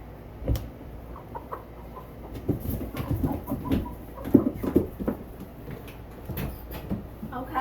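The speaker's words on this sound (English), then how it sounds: "I'll get my Silver Lace Wyandotte out and show you her" A Silver Lace Wyandotte hen clucks softly in short, irregular bursts, close by and low in volume, mixed with faint rustling and handling noises.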